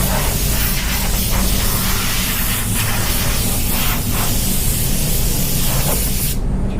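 Compressed air from a spray gun blasts loudly and steadily to clear dust off a surface, a continuous broadband hiss that cuts off abruptly just before the end.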